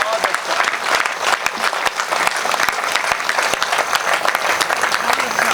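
An audience at a Hindi poetry gathering (kavi sammelan) in a township hall breaks into sustained, dense applause, steady and loud throughout with a few voices under the clapping.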